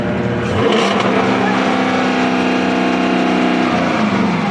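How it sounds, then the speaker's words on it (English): A drift car's engine revs hard with the brake held, a loud sustained roar with rising and falling pitch that fills the whole clip, close by and without talk. "Push that button. Press the gas and rev it."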